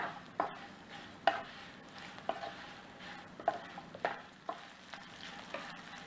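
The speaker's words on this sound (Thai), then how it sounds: "ต่อไปก็นำเครื่องหอมลงผัดค่ะ ก็จะมีขิงรากผักชีชวงเจียแล้วก็กระเทียมค่ะ ผัดให้หอมเลยนะคะ" Ginger, coriander root and garlic stir-fried in a pan over medium heat, a steady low sizzle broken by about a dozen sharp spatula scrapes and taps against the metal, fairly near, with no voices.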